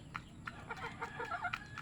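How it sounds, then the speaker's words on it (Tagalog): Pet chickens clucking in a string of short, close, separate calls with a faint steady background hum behind them. "Ay mga alaga kong mga manok."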